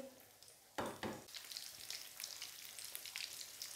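Spicy potato cutlets fry in a pan, a soft steady sizzle with a sharp burst of spitting as they go in, then continuous crackling oil, close and quiet, with no talking.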